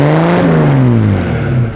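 A 42-year-old vehicle that has worked the Gibb River Road in the Kimberley fires up and revs hard, a loud, close engine roar that rises and then slowly falls in pitch over under two seconds.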